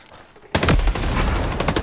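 Rapid gunfire bursts from the tactical shooter Ghost Recon Breakpoint erupt loudly after half a second of quiet, a dense close volley of overlapping shots sustained to the end.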